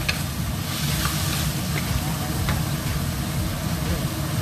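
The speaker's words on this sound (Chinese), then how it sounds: "我们把这个食材呢先炒香起来" Ingredients stir-fried in a pan for egg foo young: continuous close sizzling and frying with scraping stirs, loud and steady throughout.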